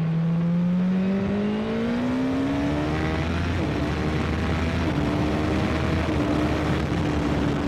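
A 2024 BMW S1000RR superbike engine revving hard while riding, a loud close high-pitched wail rising in pitch through the gears over heavy wind rush, with a brief shift dip partway through.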